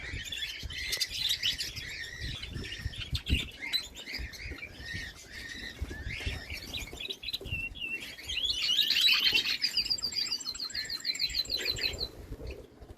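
Several nightingales and canaries sing and trill continuously, with bright warbling phrases and rapid repeated chirps growing louder toward the end.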